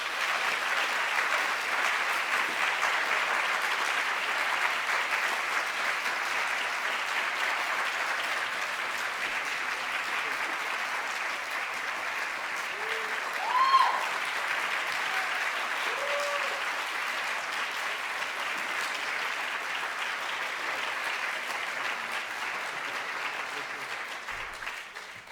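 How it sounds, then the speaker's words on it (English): Crowd at an urban education award event gives a long, warm round of applause for an award recipient, a steady distant wash of many clapping hands that barely varies, with faint murmurs and a brief louder bump midway. "Please join me in giving a warm round of applause"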